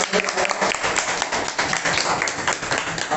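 Audience applause welcoming journalist Pulak Sarkar at a press club Bijoya reunion in Islampur, a steady dense clapping from a crowd that fills the whole moment, with some voices mixed in.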